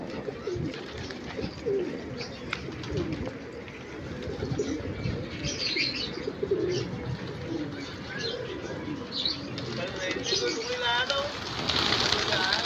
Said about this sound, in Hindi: देखें खुद उठ गया कबूतर।